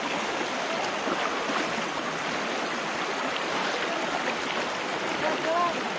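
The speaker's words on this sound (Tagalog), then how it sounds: "lakas ng agos ng tubig" Strong current of a stream rushing near a large waterfall in Bulacan, a steady broadband roar of moving water filling the whole stretch without pause.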